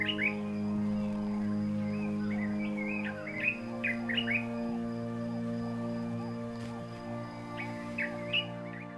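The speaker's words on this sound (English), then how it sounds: "This is a dark-capped bulbul." A dark-capped bulbul sings in African bush, a series of short bright whistled phrases repeated at intervals over a steady background drone, clear and moderately near, with no talking.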